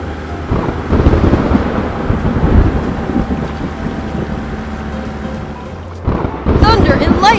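Deep rolling thunder rumbles steadily for several seconds ahead of a storm, loud and low, with wind noise and a voice coming in near the end.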